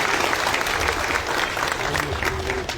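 Audience applause at a Nationalist Congress Party political gathering, a steady wash of clapping from a crowd with some murmuring voices beneath it.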